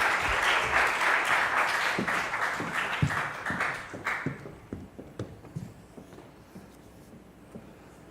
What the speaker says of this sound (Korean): 우리 힘찬 박수로 환영하겠습니다.